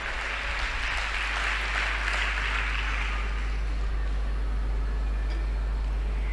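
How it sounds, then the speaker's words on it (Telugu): A church congregation applauds together during a Telugu sermon, a steady wash of many hands clapping that runs the whole length at even loudness over a low hum. "కొట్ట చప్పట్లు ఒకసారి."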